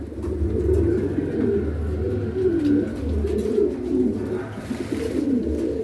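Pigeons coo nearby in low, throaty, rolling calls that repeat and overlap steadily, fairly loud and close, with no talk.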